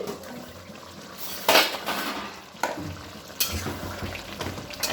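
A metal lid comes off a pan of Bengali prawn do pyaza with a sharp clatter, followed by a few lighter clinks of utensils against the cookware and a soft sizzle underneath, close and fairly loud.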